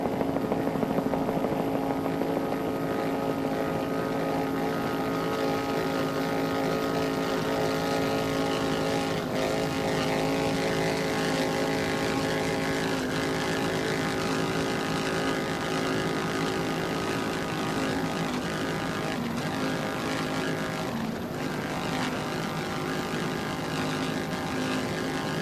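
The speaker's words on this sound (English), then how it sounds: "Powered by a single Mercury Racing 800 horsepower Supercat engine with a Bravo B-Max drive, Team National Guard in their 29-foot Scarab" Team National Guard's 29-foot Scarab racing powerboat with a single Mercury Racing 800 hp Supercat engine and Bravo B-Max drive at an offshore race on the bay, a steady loud engine drone holding for the whole stretch.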